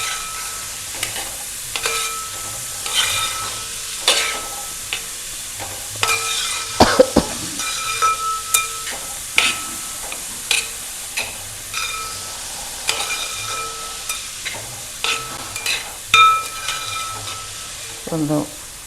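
Egg thoran stirred in a hot pan, with steady frying sizzle broken by repeated scraping strokes of a spoon at an irregular, unhurried rhythm, close and fairly loud.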